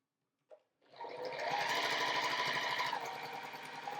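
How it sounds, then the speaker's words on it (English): After a brief click, a sewing machine runs a quarter-inch seam joining quilt fabric pieces, a loud rapid needle chatter that starts abruptly and continues steadily to the end. "I'm going to place it right sides together and sew a 1/4-inch seam"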